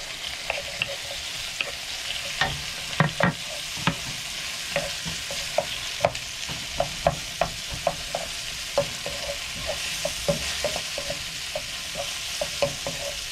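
Garlic, ginger and onion are stir-fried in a pan for a garlic and ginger chicken dish, with a low steady sizzle under repeated close clacks and scrapes of a utensil striking the pan, and no voices.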